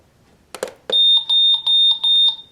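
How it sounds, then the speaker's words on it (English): A 2011 New York Mets LED clock's alarm sounds after a few button clicks: loud, close, shrill electronic beeps repeating in an even on-off rhythm. "that's certainly a loud alarm"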